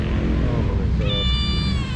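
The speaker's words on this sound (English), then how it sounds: "So this poor kitten, that looks in a bad way" A thin, sickly stray kitten with a visibly bony back leg in the colonial old town of Jakarta gives a loud, close, drawn-out meow, rising in pitch, heard alone without talk.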